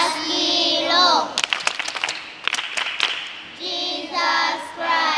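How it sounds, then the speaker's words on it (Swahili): An audience of children and adults claps at a church parish gathering, a dense burst of hand claps between stretches of a voice singing or calling out. "Mpigieni makofi."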